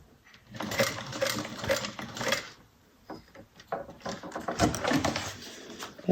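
A sewing machine stitches across zipper tape in two bursts of rapid mechanical whirring with a short pause between them, close and clear, with some handling sounds of the fabric.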